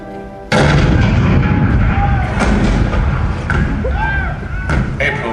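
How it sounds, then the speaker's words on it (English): Cannon fire at Fort Sumter erupts suddenly and loudly, a dense rumbling barrage of booms with scattered sharper blasts and crackles continuing throughout. "The cannon spoke for war, bitter, violent, and devastating."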